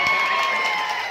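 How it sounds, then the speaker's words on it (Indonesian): Crowd applause and cheering for a contestant on an Indonesian parents' quiz show, a steady dense clatter of clapping that fills the whole moment under a buzz of voices. "Tepuk tangan untuk Pak Keci."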